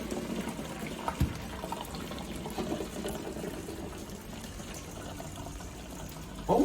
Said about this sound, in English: Then we're going to drain our corn and butter mixture.